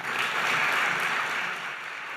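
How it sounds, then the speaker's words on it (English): Applause from an audience welcoming Cardinal McCarrick at an evening lecture event, a steady dense wash of clapping throughout, moderately loud and fading slightly toward the end, with no voices over it. "he was doing most of the clapping"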